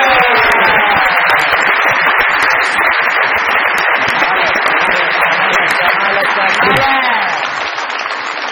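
Studio audience applauding loudly and steadily for several seconds to welcome a singer on a comedy talk show, with some cheering mixed in before fading slightly at the end.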